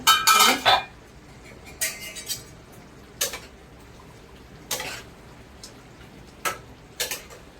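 A metal lid set onto a pot of cooking mutton, a bright clatter at the start followed by several lighter, sharp clinks and taps spaced a second or so apart in a quiet kitchen.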